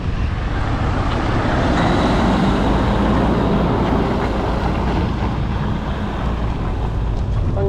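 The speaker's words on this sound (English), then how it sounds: "whoa, big truck." A big truck passes a cyclist on a road in Thunder Bay, Ontario, a loud, broad roar mixed with heavy wind buffeting on the microphone, continuous throughout with no talking.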